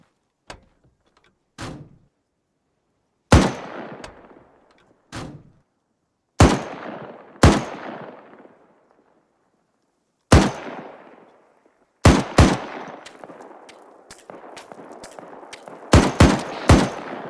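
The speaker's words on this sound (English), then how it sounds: "why are you shooting at him with an M4 then?" Separate M4 rifle shots in ArmA 3, fired singly and in short bursts with long gaps between, each a sharp loud crack followed by a decaying echo; the shooting grows denser toward the end.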